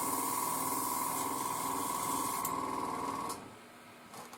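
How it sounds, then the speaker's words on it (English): An airbrush being cleaned for tank model painting sprays a steady, close hiss with a faint whine, then cuts off abruptly near the end, leaving quiet with a few short spurts. "Cleaning the airbrush for this flows nice"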